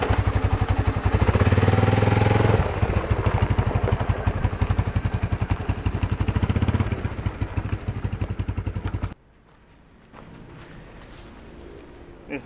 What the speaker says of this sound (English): This is my mower I got secondhand.